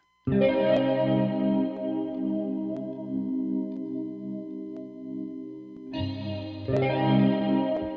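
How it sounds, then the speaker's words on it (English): A single sustained electric guitar chord rings out with effects, struck once, decaying slowly, then strummed again near the end. "This is just another guitar sound. Just a single chord."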